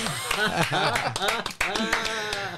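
A studio audience and hosts clap for a podcast guest: a scattered run of sharp, quick hand claps sits under loud, overlapping talking and laughter close to the microphones.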